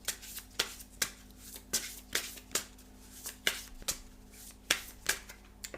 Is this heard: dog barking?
no